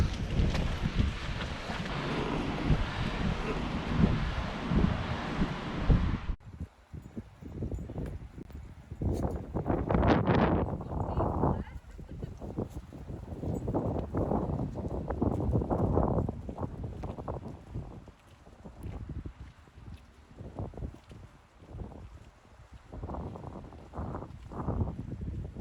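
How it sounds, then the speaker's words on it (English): Winter wind along the Kennet and Avon Canal, on a hillside beside a flight of locks: a steady rushing roar at first, then uneven gusts buffeting the microphone, rising and falling, with no talking. "the wind is picking up again"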